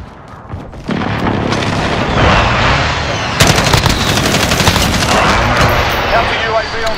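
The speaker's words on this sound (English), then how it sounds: "Enemy precision airstrike, take cover!" Video game airstrike erupts in heavy booming explosions followed by sustained rattling gunfire, loud and continuous, with a voice speaking over the battle.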